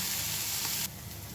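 Masala spices dry-roasting in a pan in a small home kitchen, a steady dense sizzle that drops abruptly quieter partway through, with no talking.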